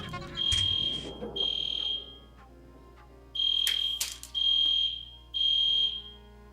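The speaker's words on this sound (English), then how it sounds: "The fire alarm's going off while I'm recording." A smoke or fire alarm going off in a room, loud piercing high-pitched beeps in repeated bursts of about half a second, five in all with a gap in the middle.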